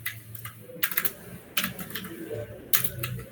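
Keystrokes on a computer keyboard come in a few short bursts separated by brief pauses, close and moderately loud, with a faint low hum underneath.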